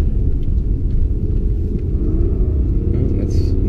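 Mercedes-AMG S65 engine accelerating in manual mode on a figure-eight track, a loud, steady low rumble heard from inside the cabin with no pause in the engine noise.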